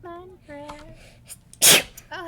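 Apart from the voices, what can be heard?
sneeze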